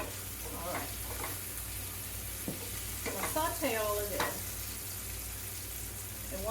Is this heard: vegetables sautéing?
yes